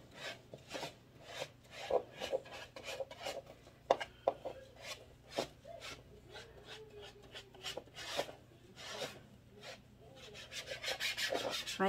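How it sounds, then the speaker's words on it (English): A paintbrush spreads Mod Podge over felt on a bleach bottle Santa craft, giving soft, close, irregular rubbing and scraping strokes with occasional taps, faint and alone. "paintbrush, smooth it all around so it'll pick up my felt."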